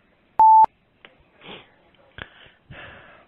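A single short, loud telephone keypad tone sounds once while dialing star 69, followed by soft breathy sniffing noises.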